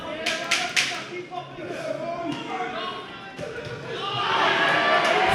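Boxing crowd at an amateur bout cheering and shouting as a fighter throws a flurry of punches, with sharp glove impacts early, then a swelling roar of voices from the arena.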